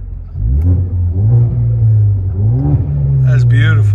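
A 2015 Ford Focus ST turbo with a manual gearbox and a Carven TR-Series muffler revs close by. The deep exhaust note swells and dips through several throttle blips, with a voice briefly speaking over it near the end.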